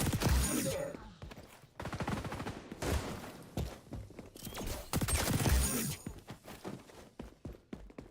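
Rapid bursts of gunfire from a gun in the video game XDefiant, several loud volleys in quick succession separated by short gaps, with busy game sounds between.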